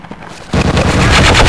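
Laser weapon fire in a game: after a faint start, a sudden loud blast erupts and continues as a dense, crackling burst of rapid zaps to the end, with no speech.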